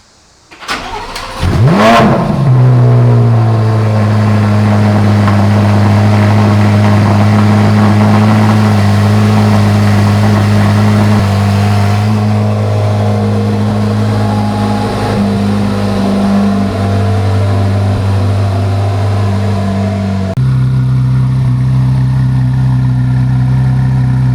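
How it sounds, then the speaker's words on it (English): A 2025 Chevrolet Corvette C8 Z06 flat-plane V8 on its stock exhaust cold starts, cranking and firing with a sharp rev flare, then settling into a loud, steady high idle that drops slightly near the end. "This is the final cold start of the stock system on the 2025 C8 Z06."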